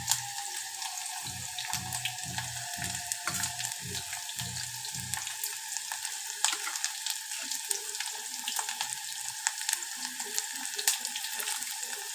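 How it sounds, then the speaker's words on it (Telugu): Garlic cloves frying in a pan give a steady, fine hiss of sizzling oil throughout, with some low clattering stirring sounds in the first half. "తెల్ల ఎల్లిపాయలు ఒక నాలుగు వేసుకోవాలి కొంచెం ఎర్రగా వేయాలి"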